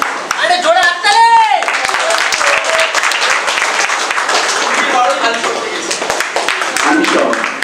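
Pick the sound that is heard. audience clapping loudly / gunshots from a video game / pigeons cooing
audience clapping loudly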